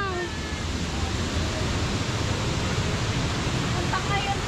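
Lintungan Falls pours down in a steady, dense rushing roar of water, constant and fairly close, with faint voices and whistle-like tones buried in the wash.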